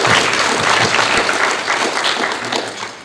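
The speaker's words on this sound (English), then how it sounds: "And let's give all of them a round of applause also." Audience at a Martin Luther King Jr. commemoration program applauding steadily, a dense continuous patter of many hands that eases slightly toward the end.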